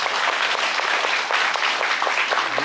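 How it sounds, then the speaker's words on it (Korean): Sustained audience applause fills a Gwangjin forum hall during a Q&A session with the district mayor, dense and steady clapping throughout with no speech over it. "우리 청장님 힘내시라 박수 한번 더."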